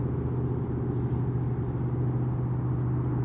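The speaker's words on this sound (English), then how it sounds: "So it's sort of remote, but you can still hear cars" A steady low rumble of car traffic drones continuously in the distance from a remote hiking spot, with no voices or other sounds breaking through.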